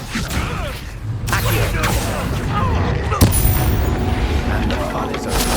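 A Confringo blasting spell explosion in the Hogwarts Legacy video game, a dense, continuous roar of booms, whooshes and crackling impacts, with one sharp blast standing out midway, loud throughout with voices mixed in.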